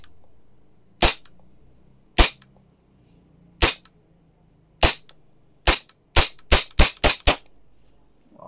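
Airsoft Glock G17 Gen 4 pistol with a metal slide and polymer frame fires about eleven loud, sharp cracks, a few spaced single shots, then a rapid cluster of shots close together near the end.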